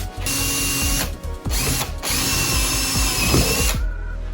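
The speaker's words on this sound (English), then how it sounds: "I'm going to drill a hole in the middle." A power drill bores a hole in wood for a homemade wooden toy, whining loud and close with brief dips in pitch as it bites.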